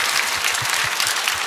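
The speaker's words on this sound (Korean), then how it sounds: "You must give a round of applause of gratitude to the Lord." A church congregation applauds together during a sermon, a dense, steady wash of many hands clapping that fills the room without pause.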